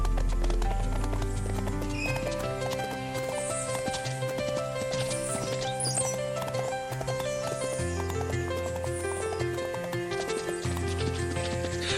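Horse hooves clip-clop steadily through an early-access horse-riding video game, a continuous rhythmic clatter heard over layered game music, with a horse's whinny near the start.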